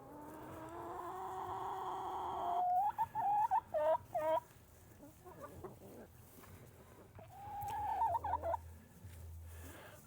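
Backyard laying hens cluck and make drawn-out, rising calls in short bursts, fairly close but not loud, with quiet gaps between the vocalizations.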